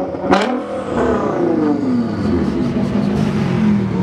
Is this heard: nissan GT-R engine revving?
yes